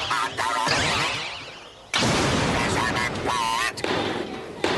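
Daleks fire their weapons in a classic Doctor Who episode, loud rasping electronic blasts in long sustained bursts, broken by brief gaps, with voices speaking over the barrage.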